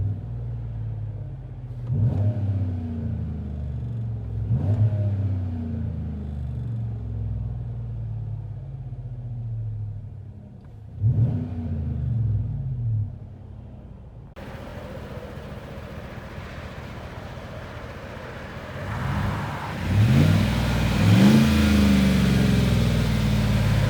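Inside the cab of a GMC Sierra SLT with a 5.3L V8 and Borla XR1 exhaust, a deep, muffled rumble rises in several rev surges, then builds to a louder, sustained engine drone, with no talking.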